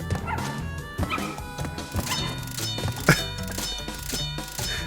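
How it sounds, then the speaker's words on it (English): Dog-like yips and barks from a character in Crash Bandicoot Trilogy, repeated short bursts mixed into busy game music and effects. "He makes like dog noise."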